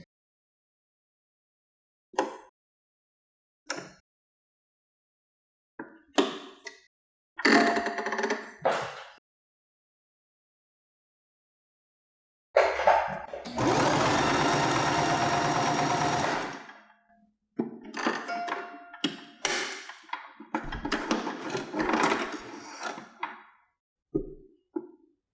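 Sewing machine stitching a cotton face mask, heard as short bursts of rapid mechanical clatter separated by silences, with one longer steady run in the middle, close and fairly loud.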